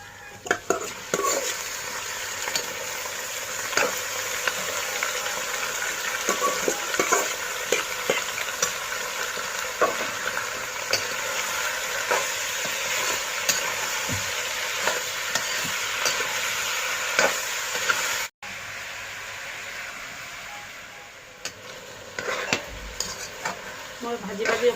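Goat meat frying and being stirred in a pan with browned onions for a mutton curry, giving a steady loud sizzle with repeated scraping stir strokes that pause briefly near the end.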